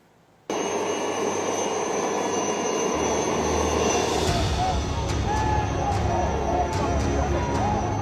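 A loud, steady helicopter roar overhead fills the air at an Assam election rally, deepening into a heavier rumble partway through, with voices calling out underneath.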